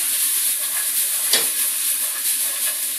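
Sliced red onion and diced red pepper frying in hot oil in a pan, giving a steady loud close sizzle with one brief scrape of stirring partway through.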